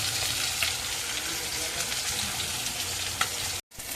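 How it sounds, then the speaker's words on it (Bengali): Fish frying in a wok for a Bengali fish curry, a steady, loud broadband sizzle of hot oil that fills the whole clip, with a few faint scrapes and a brief dropout near the end. "মাছগুলো লাল লাল করে ভেজে দিয়েছি, এবারে তুলে নেব।"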